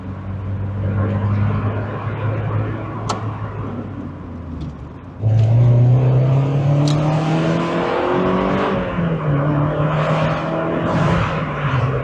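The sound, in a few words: car driving at about 40 miles per hour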